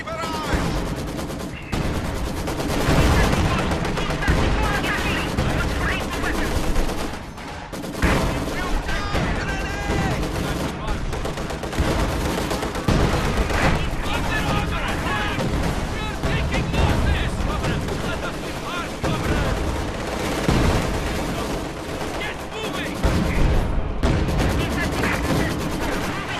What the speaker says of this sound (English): Launch artillery barrage.